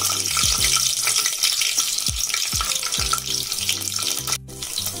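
Green chillies hit hot oil in a pan, a loud continuous sizzle and crackle with spoon clatter and a few sharp knocks, running steadily with no voices.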